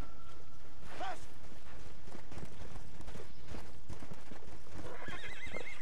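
A Four Horses of the Apocalypse steed in Red Dead Redemption: Undead Nightmare neighs loudly, then gallops in continuous, dense hoofbeats, with another whinny near the end.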